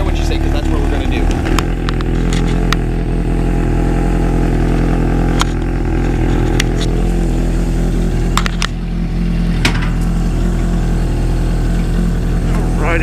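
A 1982 Suzuki GS750E cafe racer motorcycle being ridden, its engine holding a loud, steady drone close by throughout, with slight shifts in pitch and a few brief clicks and knocks on top.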